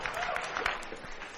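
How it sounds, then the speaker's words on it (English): Applause from an audience at a product keynote is played back in a lecture hall, a short dense patch of clapping and crowd noise with voices mixed in. "And the crowd does actually go nuts both times"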